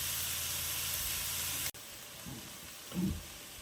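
Chopped vegetables and pepper pieces frying in a pan hiss and sizzle steadily, then after a sudden cut the sound drops to a quieter simmer with a couple of soft clattering stirs.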